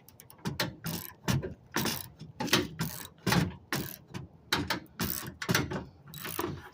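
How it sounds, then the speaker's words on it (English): The under-vehicle ratchet mechanism of a GMC Canyon pickup lowers the spare tyre with a loud, close series of sharp metallic clicks in irregular bursts, with brief pauses between strokes. "And here we're ratcheting right here."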